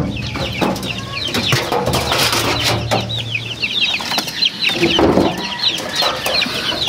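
Five-day-old chicks cheep in a busy, overlapping chorus inside a dirty coop at a game farm, with high peeps sounding continuously close by, soft clucks, and brief wing flutters.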